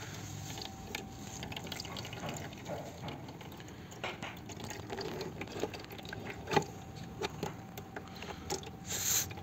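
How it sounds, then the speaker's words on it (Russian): Hot engine oil draining from the sump of a KIA K5 during a connecting-rod bearing repair, a steady faint trickle of liquid with occasional splashes and clinks throughout, no talking. "Давайте сольем масло отсюда."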